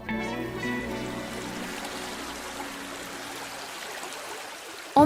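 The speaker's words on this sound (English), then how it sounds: "Flowing through them is fresh ice-cold spring water." Ice-cold spring water flows through bamboo cane noodle slides, a steady, close trickling stream with a brief sharper sound at the very end.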